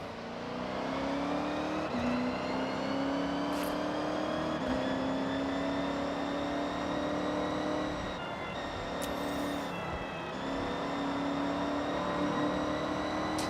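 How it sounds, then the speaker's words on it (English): A car engine revs steadily in the racing game Forza Horizon 6, a sustained droning, whiny tone that rises and dips in pitch for the whole stretch with no talking. "This car sounds like a vacuum cleaner."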